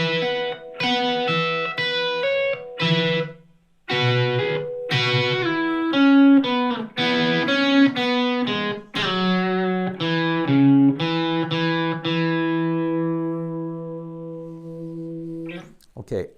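A slow electric guitar riff with sustained notes and double stops, played alone, closing on a long ringing chord that fades out.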